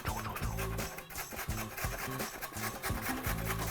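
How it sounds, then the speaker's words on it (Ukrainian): Carrots grated by hand on a grater for sauerkraut, a steady rhythmic rasping of repeated strokes, close and continuous with no talk. "Далі беремо моркву і натираємо так моркву."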